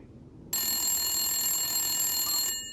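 Telephone ringtone on an outgoing cold sales call, a steady electronic ring starting abruptly after a short quiet lead-in and holding at even loudness for about two seconds before cutting off.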